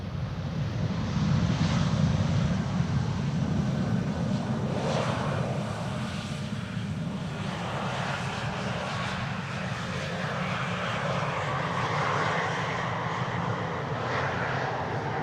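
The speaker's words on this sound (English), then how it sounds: "German Airways with the pointillism-inspired tail, flying on behalf of KLM City Hopper." A German Airways jet airliner flying for KLM City Hopper, its tail painted in a pointillism style, landing on Polderbaan runway 18R: a steady broad engine roar that swells slightly early, then holds as a continuous rushing drone.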